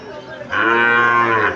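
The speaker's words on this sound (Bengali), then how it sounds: "এখানে একটা বকনা বাছুর দেখা যাচ্ছে" A Sahiwal heifer calf gives one loud, drawn-out moo, rising into a strong sustained bellow that fills the moment close by, at a cattle market.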